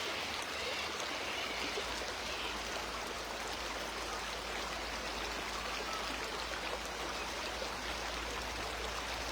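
A river flows steadily, giving a constant broad rushing wash of water with faint trickles, distant and even throughout with no voices.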